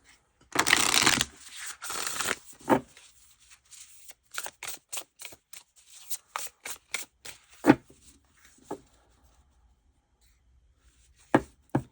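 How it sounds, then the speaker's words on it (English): A deck of oracle cards being shuffled close by, a long smooth riffle-like burst followed by a run of separate crisp card slaps and flicks, with quiet gaps between them. "Really smooth shuffle."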